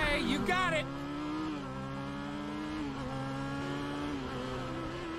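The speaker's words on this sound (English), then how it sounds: "Then let's lay down some rubber. Crank that throttle." A motorcycle engine in the video game Final Fantasy VII Remake revs up and then holds a high, steady whine, its pitch shifting slightly as the throttle is worked.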